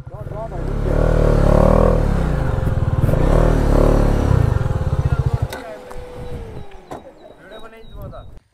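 A dirt bike engine growls and revs through an outdoor ride, rising loud near the middle and fading off, with voices talking over it.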